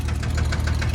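A tractor engine runs nearby with a rapid, even knocking pulse over a low rumble, heard briefly and alone.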